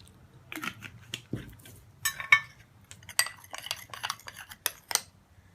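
Spoon stirring homemade hand and foot lotion ingredients, including almond oil, in a small bowl, with light scraping and clinking taps in an uneven rhythm, close and soft.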